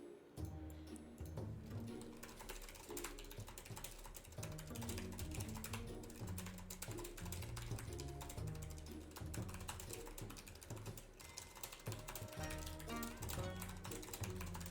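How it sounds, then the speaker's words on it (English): Someone types on a computer keyboard, a faint, continuous clatter of rapid key presses that runs throughout over a low background hum. "You hear that typing?"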